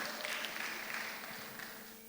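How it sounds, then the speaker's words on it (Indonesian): A church congregation claps together in a sustained, fairly faint burst of applause that slowly fades over about two seconds. "Sekali lagi berikan tepuk tangan buat Allah kita."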